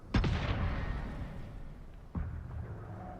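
Two heavy gunshots or blasts boom out in a video game, one near the start and another about two seconds later, each with a long rumbling tail, loud and close with no talking.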